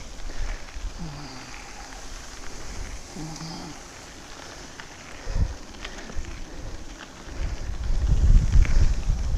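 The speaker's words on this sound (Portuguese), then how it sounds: "E o vento é forte, hein?" Strong wind buffets the microphone during a 40 km ride on a 29-inch mountain bike along a muddy dirt road, a continuous rushing roar that swells louder toward the end, with no talking.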